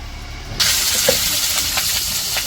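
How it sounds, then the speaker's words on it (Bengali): Onion and green chili hit hot oil in a wok, a sudden loud sizzle that bursts in after a brief quiet moment and keeps hissing steadily to the end. "পেঁয়াজ আর কাঁচামরিচ দিয়ে দিল শাক ভাজি করার জন্য।"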